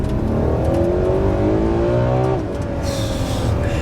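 Ferrari 12Cilindri V12 driven hard on a wet road, engine revving and climbing through rising tones, a brief dip as it shifts, then pulling again with a hiss of spray, loud and close.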